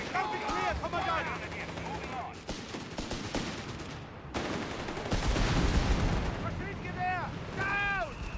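In the video game Company of Heroes 3, 6-pounder and 17-pounder tank guns fire, producing repeated booming shots and explosions amid a battle din, with a commentator talking over it.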